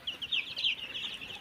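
Seven-day-old Sonali chicken chicks in a poultry shed give a steady chorus of high, overlapping peeps and chirps, fairly close and continuous with no talking.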